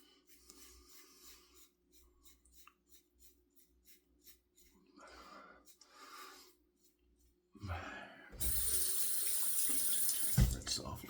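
Water gushes from a tap while a single-edge aluminum razor is rinsed, loud and close after a quieter stretch of soft movement sounds and occasional taps.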